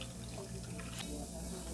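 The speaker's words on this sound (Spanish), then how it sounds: "Vamos a colar el agua de las cáscaras que cocimos de los camarones." Water from boiled shrimp shells is strained through a sieve, pouring and trickling steadily throughout at moderate level with no talking.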